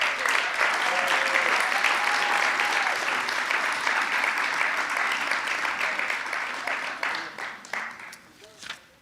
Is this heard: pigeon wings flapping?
no